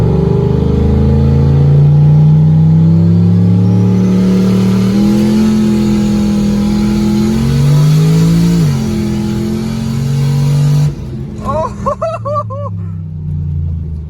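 A big-turbo Subaru Forester engine revving hard as the boost is turned up, a loud sustained roar with rising and falling pitch that drops away near the end into a few short chirps.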